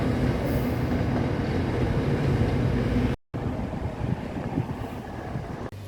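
A Red Line electric train rumbles past steadily and loudly, wheels clattering on the rails, with a brief cut in the middle.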